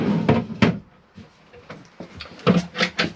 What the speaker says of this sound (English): in here you've got storage, and you've got slide out drawers.